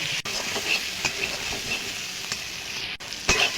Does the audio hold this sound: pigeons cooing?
no